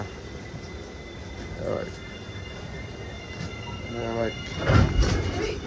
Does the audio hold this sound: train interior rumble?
yes